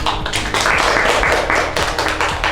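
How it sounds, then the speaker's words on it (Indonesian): A classroom of children claps together for a classmate, a brief burst of lively, slightly uneven applause lasting a couple of seconds. "beri tepuk tangan"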